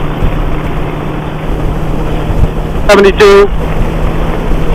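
Heavy, constant wind buffeting on a motorcycle cruising around 70 mph on the highway, loud and close, with a brief voice cutting in over the roar.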